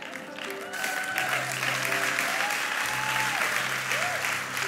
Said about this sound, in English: I'll take four hand claps.